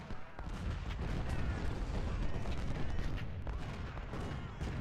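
Musket volleys and artillery fire in the Ultimate General: Civil War strategy game: a continuous, dense wash of distant crackling gunfire and booming blasts with no voices.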